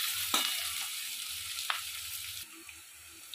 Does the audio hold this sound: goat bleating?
no